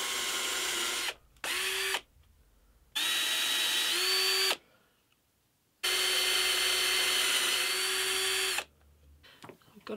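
A power drill with a brad point bit bores a hole in wood in three loud bursts of steady whine, each spinning up and running for about one to three seconds, with short quiet gaps between them.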